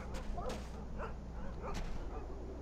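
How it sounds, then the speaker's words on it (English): Dogs in the video game Iron Storm give a few short, muffled barks and yips at mid distance over a low, steady hum. "Oh, more dogs."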